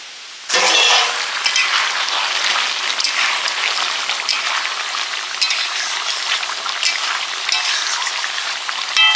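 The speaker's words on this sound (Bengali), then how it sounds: "মাংসটা কষানো চলছে।" Chicken meat sautéing in a pan, starting abruptly with a loud, steady crackling sizzle that continues close and unbroken, with occasional light stirring clicks.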